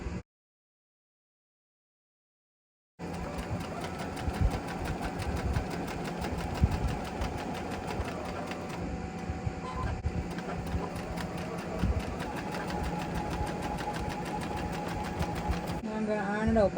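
Sewing machine stitching quilt pieces for a Lone Star Liberty quilt, a fast steady mechanical whir running continuously after a silent opening and stopping near the end, close by.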